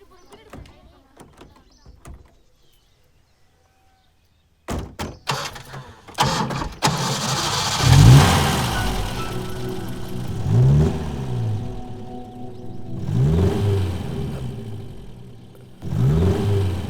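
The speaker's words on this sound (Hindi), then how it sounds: "वो अपनी गाड़ी लेकर जा रहे हैं" After quiet moments and a few knocks, a car engine turns over and revs repeatedly, rising in several bursts as it pulls away nearby, with voices speaking in between.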